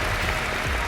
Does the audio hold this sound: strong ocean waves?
no